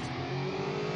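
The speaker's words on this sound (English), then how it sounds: "Some serious racing!" A car engine revving steadily in the racing game Hot Wheels Unlimited, a continuous buzzing, accelerating drone at constant loudness with no voices.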